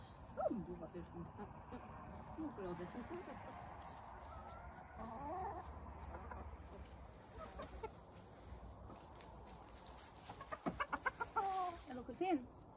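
Hens clucking and cackling inside a henhouse in winter, several birds calling close by with scattered bursts of rapid clucks, and a person speaking softly among them.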